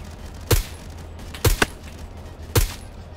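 Gunfire in the shooter game BRM during a City Hall solo run: three sharp, loud shots spaced about a second apart, the middle one a quick double, over a quiet background.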